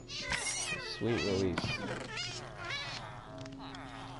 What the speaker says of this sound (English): These are just cats in Minecraft.